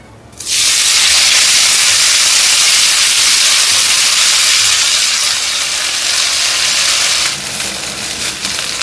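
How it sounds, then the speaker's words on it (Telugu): Fresh mint leaves hit hot oil with a sudden loud, steady sizzling hiss that keeps going for several seconds, then eases slightly near the end. "ఇప్పుడే ఈ నూనెలోకి పుదీనాను వేసుకోవాలి"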